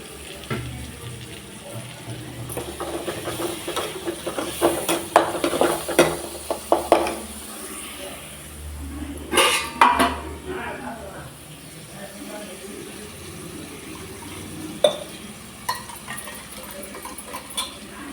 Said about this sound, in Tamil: கலக்கி வச்சுருக்கிறத எடுத்து கொட்டி நல்லா எண்ணெய் பிரிஞ்சு வர வரைக்கும் வதக்கிக்கலாம்